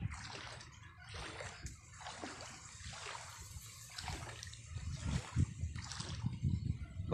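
Flood water after a typhoon sloshes and splashes in regular, repeated bursts at moderate distance, fairly faint with a soft trickle between splashes.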